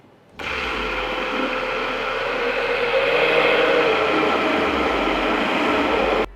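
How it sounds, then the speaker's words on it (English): A steady, loud motorized whirring starts abruptly and runs continuously, an immersion blender whipping heavy cream close by, with a slightly rising pitch. "Just put your immersion blender in and then turn it on, start mixing it until it turns into whipped cream."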